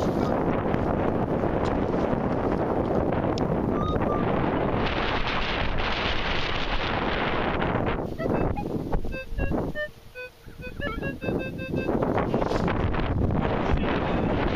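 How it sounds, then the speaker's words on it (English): Wind buffets an outdoor microphone during a metal-detecting hunt with a Minelab E-Trac, a loud continuous rushing roar that briefly dips midway, with faint detector tones and no talk. "I know the wind's blowing. That's probably all you're gonna hear"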